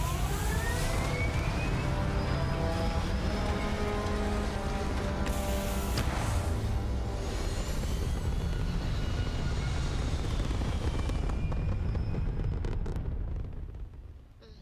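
Spaceship thrusters firing in Starfield, a steady, loud roaring engine drone with rising whines, continuous for many seconds before cutting out at the end.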